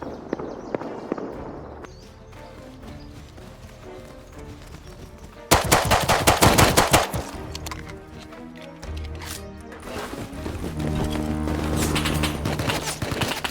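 AK rifle fire in a survival video game: quiet movement sounds and light footsteps first, then a sudden loud burst of automatic gunfire, followed by further rapid shots and clattering over a rising musical score.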